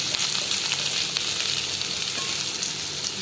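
Onions frying in hot oil for Kerala-style cucumber thoran, stirred until browning: a loud, even sizzle runs throughout, with light stirring scrapes close by and no voices.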